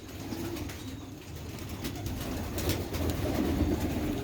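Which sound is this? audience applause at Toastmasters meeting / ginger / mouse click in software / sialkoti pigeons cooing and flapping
sialkoti pigeons cooing and flapping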